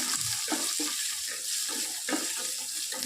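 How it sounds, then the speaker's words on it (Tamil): Dried red chillies, four or five whole ones, fry in oil in a pan with onion and green chilli, giving a steady close sizzle with soft stirring scrapes throughout and no talking. "காய்ந்த மிளகாய் ஒரு 4-5 போட்டுக்கலாம்."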